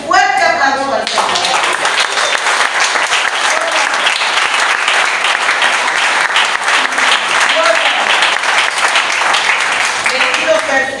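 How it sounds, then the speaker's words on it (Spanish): A church congregation bursts into strong, sustained applause during a Spanish-language worship service after a voice briefly speaks, the clapping loud and dense throughout with cheering voices mixed in. "De un fuerte aplauso al Señor."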